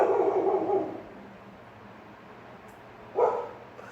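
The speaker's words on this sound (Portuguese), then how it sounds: "Vocês estão escutando os latidos aí, né?" A dog barks in two short bursts, one near the start and another about three seconds in, moderately loud with quiet between.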